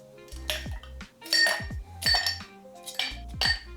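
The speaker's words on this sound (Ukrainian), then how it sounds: "Додаємо лід." Ice cubes clink and clatter into a mixing glass for a dry martini, with several sharp glassy knocks in bursts about half a second apart, close and clear.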